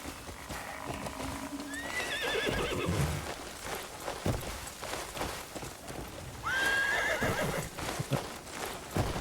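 A horse whinnies twice in Crimson Desert, rising shrill calls a few seconds apart, over steady clip-clopping hooves and ambient game sound.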